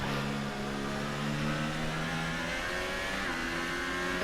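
Racing car engine screaming through a timed qualifying lap at Belgium, a steady high-revving whine with shifting harmonics that holds loud and constant throughout.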